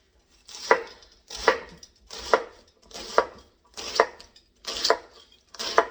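A knife chops through a cabbage on a board in seven evenly spaced, crisp thuds, each with a short crunchy tail, loud and close.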